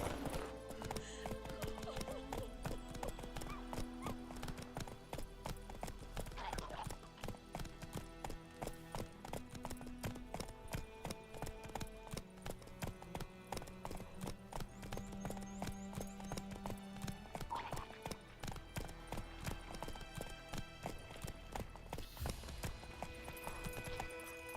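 Horse hooves in a video game, steady rhythmic clip-clopping throughout, close and even, with occasional faint voice sounds over the pattern.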